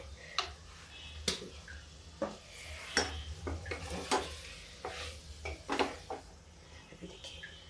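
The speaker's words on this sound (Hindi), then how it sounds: "अब इसको फिर चलाते हैं।" A spoon stirs potato and cauliflower curry in a pan, making irregular scraping clinks and knocks against the metal over a low sizzle, close and fairly quiet.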